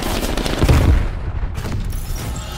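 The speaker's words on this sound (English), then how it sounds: "Semtex going out." A Semtex grenade goes off in Call of Duty: Cold War, a loud close blast with rumbling gunfire around it that trails away over a couple of seconds.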